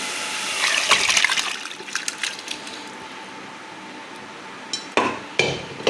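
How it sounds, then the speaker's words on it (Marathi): Water and mutton from a pressure cooker pour and splash into a pot at the start, then quiet to a faint trickle, with a few metallic clinks near the end. "आपण कुकरमधलं पाणी आणि मटण सगळं आपण आधी ह्याच्यात ओतून घेऊया"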